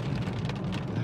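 Water sprays and patters steadily over a hail-damaged car inside an automatic car wash tunnel. The rain-like hiss is continuous and fairly quiet, with low machinery rumble underneath.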